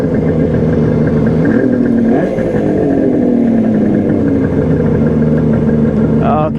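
A Kawasaki KH 500 H1 motorcycle's two-stroke engine warms up close by, idling with a steady buzzy drone and a brief rise and fall in revs around the middle, then a clattering mechanical sound near the end.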